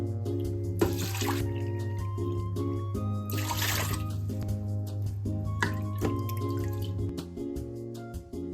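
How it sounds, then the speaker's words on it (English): Lentils are washed in water, with drips, trickles and two brief bursts of running water over a steady low hum, fairly faint and close. "wash the lentils until the water is clear"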